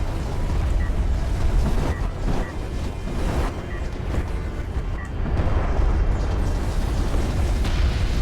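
An artillery barrage pounds in a video game, a dense roll of heavy, rumbling explosions that stays loud and continuous throughout.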